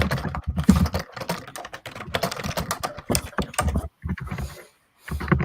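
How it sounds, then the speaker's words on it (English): Computer keyboard typing during a live writing session, a dense run of clicking keystrokes filling most of the stretch with a couple of brief pauses, fairly close and moderately loud. "This is why we mute ourselves when we start typing."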